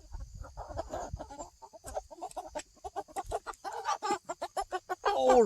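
Cornish Cross chickens about nine weeks old in a pasture pen cluck repeatedly in quick, rhythmic bursts, close and fairly loud, with the clucking growing denser toward the end.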